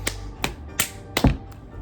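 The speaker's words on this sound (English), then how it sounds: "Hit my hand on this." A hand strikes against an object in five sharp, separate knocks spaced unevenly over about two seconds. The fourth knock is the heaviest, and no one speaks.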